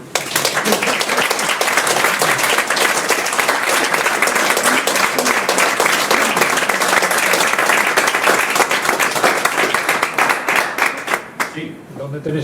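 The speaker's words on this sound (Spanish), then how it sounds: "Aplauso." A conference audience at a presentation of experimental archaeology days claps loudly and steadily for about eleven seconds, a close, crisp mass of hands that thins and fades out at the very end.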